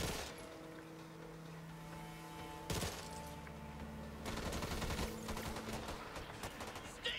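Rapid gunfire in the Back 4 Blood video game, bursts of automatic shots crackling in dense volleys with brief pauses, moderately loud over a steady game background.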